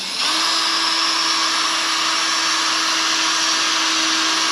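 A power sander with a P500 disc grinds across a C6 Corvette headlight, giving a loud, steady, high-pitched whine that starts abruptly and holds without a break.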